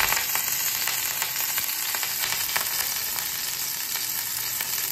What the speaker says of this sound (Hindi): मैंने थोड़ा सा ऑयल लिया है, इसमें अभी हम चिली डाल लेंगे।